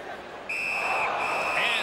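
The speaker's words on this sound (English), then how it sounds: "And the referee's whistle has stopped play." A referee's whistle blows sharply to stop play at a New Jersey Devils ice hockey game, one sustained shrill blast over steady arena crowd noise, near and loud, rising again briefly at the end.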